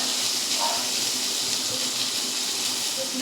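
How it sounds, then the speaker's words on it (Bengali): Paneer pieces frying in a pan, a steady, close sizzling hiss that runs on evenly without a break. "সবগুলোকে একটু লালচে করে ভেজে নেব"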